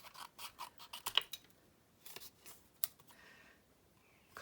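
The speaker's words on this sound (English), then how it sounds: "cut it with the scissors." Scissors snip through paper for a stamped gift box craft project, a series of quiet, close, crisp cuts in short clusters with brief pauses.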